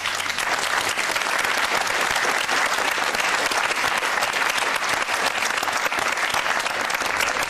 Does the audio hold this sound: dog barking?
no